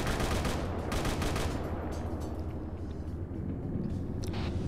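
Rapid, continuous machine gun fire from a tank in a military video game, loud and dense bursts running throughout with faint engine rumble beneath.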